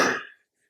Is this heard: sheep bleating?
no